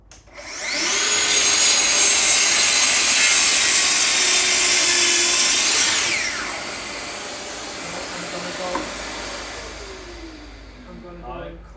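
A Festool 18 V cordless track saw rips through wood on a guide rail making a bevel cut, a loud high whine for several seconds that winds down into a softer spinning motor, with talk underneath.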